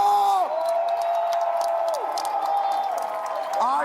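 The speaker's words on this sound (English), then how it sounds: "I am here with the crowd. They are going crazy." An esports crowd at an Apex Legends ALGS LAN event in Los Angeles cheers, whoops and claps loudly and continuously, with a dense roar of voices filling the space.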